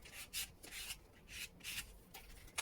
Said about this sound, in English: use my trusty card just to make sure it's well glued down